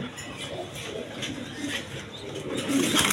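Pigeons cooing nearby in a soft, low repeated murmur, with faint background noise and brief speech at moments.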